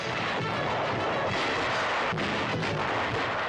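Artillery shelling of Castelforte, the Italian town called Little Casino, in WWII newsreel footage: a dense, continuous roar of booms and rumbling blasts, loud and unbroken throughout.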